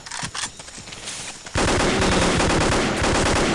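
Gunfire in the game Vietcong: scattered shots at first, then a continuous, loud, close burst of rapid automatic fire that runs to the end.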